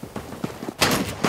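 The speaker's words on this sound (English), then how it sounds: "Yes, they are shooting." Bots firing weapons in CS:GO, a burst of gunshots starting abruptly and repeating in quick, loud cracks after a stretch of softer footstep-like thuds.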